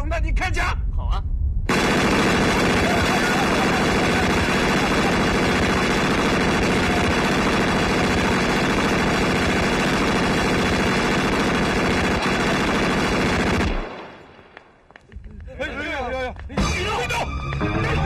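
Loud, sustained machine-gun fire rattles nonstop for several seconds in a street confrontation scene of a Shanghai period drama, then cuts off abruptly, followed by quieter shouting voices.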